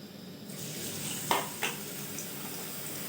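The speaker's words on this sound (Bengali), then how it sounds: "তেল গরম হয়ে গেছে। এবার চিপস দিয়ে দেবো।" Potato chips dropped into hot oil in a pan start frying, a steady close sizzle rising after a quiet start, with two sharp louder bursts as the slices hit the oil, then settling into even bubbling.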